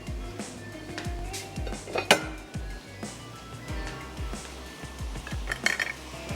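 A serving platter and dishes are handled in a home kitchen: repeated close clinks and knocks of plates and cutlery, irregular and fairly loud, with no talking.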